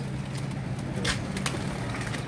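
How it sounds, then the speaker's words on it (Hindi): Flying-breed pigeons of the Sahiwal champion flock coo in a steady low drone, with a brief flutter of activity in the middle and no voices. "ये जी ये कबूतर का जो हम इस वक्त आपको शो करवा रहे हैं"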